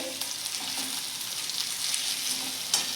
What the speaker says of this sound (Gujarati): અહીંયા આપણે લીમડો પણ એડ કરી લઈએ લીમડો વઘારમાં નાખી શકીએ